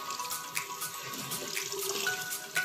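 Tap water runs steadily into a sink while dyed hair is rinsed, a close and continuous splashing stream with a few brighter drips and no talking.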